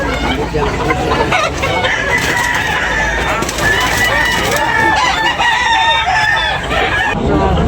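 Gilmore Hatch roosters crow and chickens cluck loudly and continuously at close range at a fowl sale in Tabunok, a busy overlapping barnyard chorus with a little talk mixed in.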